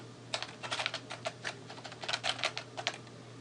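Computer keyboard typing, with rapid irregular key clicks in bursts, close and clear over a faint steady hum with no voices.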